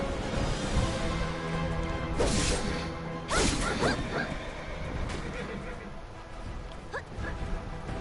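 A horse in a video game lets out a loud whinny, followed by crashing and whooshing game effects and a fainter second neigh, all over a steady background of game music and noise.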